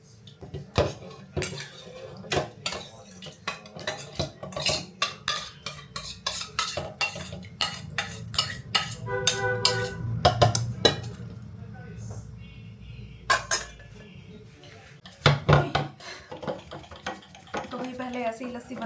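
Lassi being churned by hand in a pot: continuous scraping and swishing with metallic clinks of the churner against the vessel, close by, with someone talking intermittently.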